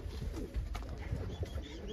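A pigeon coos softly in a loft, low murmuring calls repeating close by over faint background noise.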